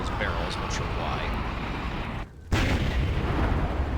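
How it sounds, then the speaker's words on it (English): Explosions from a Sabbat discipline in Vampire: Bloodlines rumble and crackle without a break at close range and loud volume, with a brief drop near the middle before the roar returns, under a voice talking. "A Sabbat discipline we really have no knowledge about that just causes these explosions near various points in the room."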